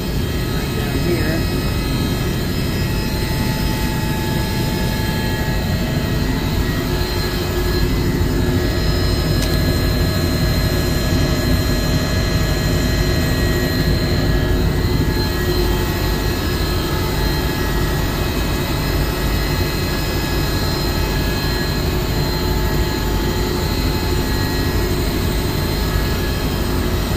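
A magnetic bearing chiller compressor at a hospital, running after a restart, makes a loud, constant droning whine with steady tonal hums. It continues unchanged for almost half a minute at close range, and a voice can be heard under it.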